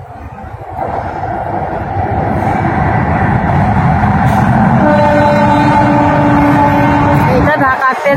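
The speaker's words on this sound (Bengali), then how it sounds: "এই মাত্র ট্রেন গেল, আবার ট্রেন আসছে।" A train rolls past close by, its rumble swelling after the first second into a loud, sustained roar of wheels and carriages, with a horn tone sounding and clattering near the end.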